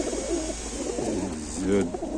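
Low, soft cooing of Ukrainian high-flying tumbler pigeons, red variety, repeating over a steady background hum, with a slightly louder coo rising near the end.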